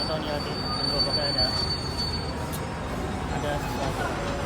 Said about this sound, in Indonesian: Kita naik kereta lagi.